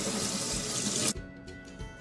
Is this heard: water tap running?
yes